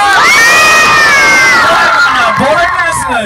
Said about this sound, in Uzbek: andijonliklar shunaqangi qarsak chaladiki baqir shaqirlar bilan